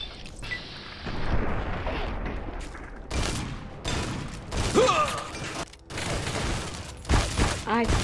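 Shotgun blasts in the video game Fallout, several loud booming shots spaced irregularly through chaotic combat noise, with game voices talking in between.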